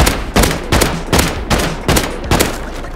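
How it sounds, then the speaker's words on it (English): Rockets fired at tugboats in a video game, six loud, evenly spaced booming blasts about half a second apart, close and alone with no talk. "Okay, first rocket going out."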